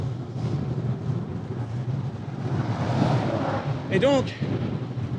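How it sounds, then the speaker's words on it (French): Wind buffets the microphone while cycling on a road, a steady rushing roar throughout, with someone speaking briefly under it. "Oula, le vent."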